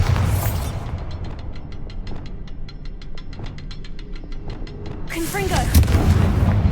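The Bombarda blasting spell in Hogwarts Legacy lands with a sharp, loud burst, then a crackling rumble and fine debris patter, and a second heavy blast follows near the end.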